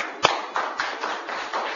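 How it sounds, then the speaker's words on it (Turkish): Audience at a Turkish gathering clapping to welcome the mayor, a sharp first clap followed by uneven bursts of hand claps from a modest crowd, fairly close and steady without talk. "Sayın Başkanımızı tekrar alkışlarla beraber alalım efendim."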